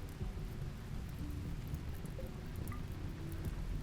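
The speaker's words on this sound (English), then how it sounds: "it is raining and foggy" Steady rain hiss with low rumbling thunder fills a foggy video game scene, a continuous dense wash of sound with no voices.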